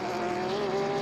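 A Mercedes race car accelerating out of the final turn at the Hankook 12H Hungary 2014 endurance race, a steady engine note rising slightly in pitch, heard at a moderate distance with no voices.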